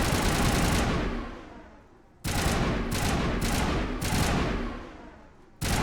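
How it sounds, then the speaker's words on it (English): Bursts of sustained automatic gunfire from a weapon in the sci-fi shooter Mass Effect, loud and close, cutting off abruptly with short pauses between longer volleys. "I haven't actually used this gun yet."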